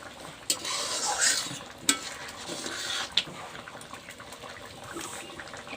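A spoon stirs small fish curry in a pan, making soft wet scrapes over a low sizzle, with a few sharp knocks against the pan.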